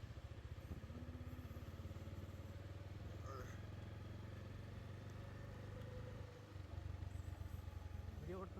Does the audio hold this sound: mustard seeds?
no